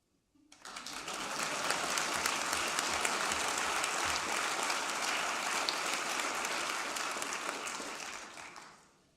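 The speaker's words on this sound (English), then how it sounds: "Make note, I didn't ask for applause." Audience applause during a speech swells in quickly, then holds as a dense, sustained roar of clapping for several seconds before fading at the end, loud and steady.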